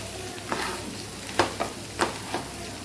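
A spoon scrapes around a pan in a handful of separate strokes over a soft, steady sizzle while spices and salt are mixed for samosa filling.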